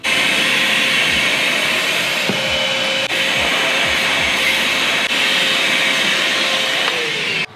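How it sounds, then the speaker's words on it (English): A vacuum cleaner roars steadily and loudly, sucking debris out of a hole drilled in a car hood, with brief hose thumps and shifts in pitch as the nozzle moves, no talking. "Now I vacuum out the hole."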